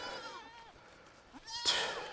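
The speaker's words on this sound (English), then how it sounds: "So all these goats right here were all born this year." Young goats born this year, some only about four months old, bleat on a farm in hot weather: a few wavering cries, one louder and closer near the end, with faint background noise between.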